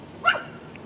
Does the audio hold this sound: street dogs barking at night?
yes